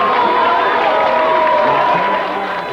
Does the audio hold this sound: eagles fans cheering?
yes